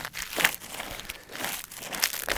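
Footsteps crunch over ice scattered with salt and sand after a February ice storm, a few close, gritty crackling steps in an uneven rhythm.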